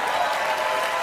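Studio audience applause rises briefly on a political talk show, a dense patter of clapping heard close and steady for about a second, with talk faintly mixed in.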